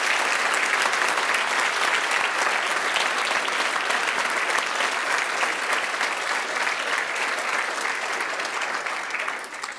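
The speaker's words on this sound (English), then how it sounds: "If we could give them all a round of applause" A large audience claps steadily for about ten seconds, a dense, even wash of applause that tapers slightly at the close.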